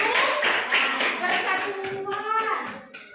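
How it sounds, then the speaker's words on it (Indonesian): A classroom bursts into applause, many hands clapping steadily at close range, fading slightly toward the end with children's voices mixed in. "Tepuk tangan untuk Resa."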